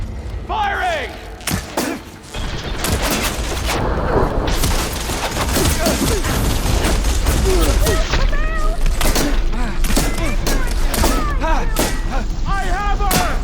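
Gunfire from the video game Horizon Forbidden West, heavy bursts and booming shots coming in a dense, rapid barrage that grows louder and fills the scene, with shouting voices mixed in.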